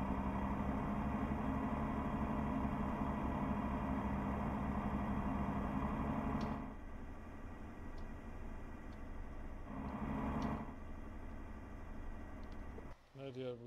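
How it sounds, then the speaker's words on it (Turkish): Mercedes Axor 3240 truck exhaust in Euro Truck Simulator 2, a steady low engine drone throughout with a brief dip and return, then a short break near the end. "Bayağı bir tatlı bir egzoz sesi veriyor şu anda."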